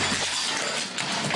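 Glass smashes loudly as it is broken to force entry into a home, a dense burst of shattering and tinkling fragments filling the short moment with no voices.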